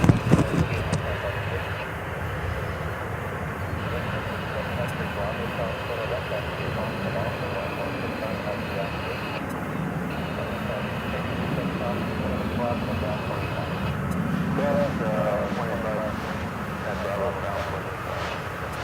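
American Airlines Flight 2049 from Wichita, Kansas, a jet at DFW Airport, passes with a steady, sustained roar that swells slightly toward the end.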